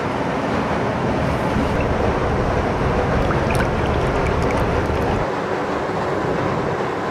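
Spray gun applying clear coat to a car in a hot paint booth, a continuous loud broadband hiss running steadily throughout without pauses.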